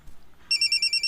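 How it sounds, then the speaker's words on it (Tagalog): Cellphone ringtone that starts suddenly and repeats as rapid, bright, high electronic pulses in a steady rhythm, loud and close with no talking. "Kang kisarong cellphone ang nitingog, Martin."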